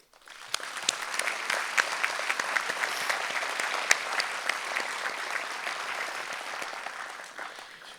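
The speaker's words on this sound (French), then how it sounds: "Et je pense qu'on peut les applaudir." An indoor audience claps steadily at an evening broadcast event in Meisenthal, a dense, even round of applause. It starts abruptly, stays strong for several seconds, then slowly tapers off.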